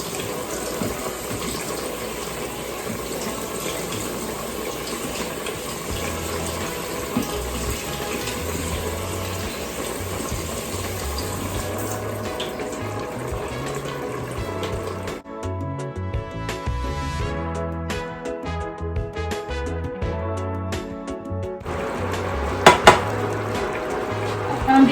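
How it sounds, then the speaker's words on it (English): Cold tap water runs in a steady gush over strained carrot and bean sprouts in a strainer, loud and continuous, with a brief change in tone partway as the flow shifts and some faint clatter. "then I'm rinsing it with cold water"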